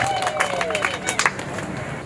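An audience at a health-care award ceremony in Tanzania bursts into applause, with dense, fairly close clapping, crowd noise and some high, wavering cries running through it.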